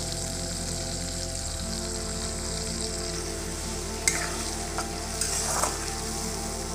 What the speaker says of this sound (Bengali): এইবার যে মশলাটা আমরা বানিয়ে রেখেছিলাম আদার মধ্যে দিয়ে, সেটা ওই তেলের মধ্যে আমি দিয়ে দিচ্ছি।